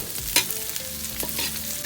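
Onion sautéing in vegetable oil over high heat, with a steady frying hiss and a few sharp spatula scrapes and knocks against the pan, close up.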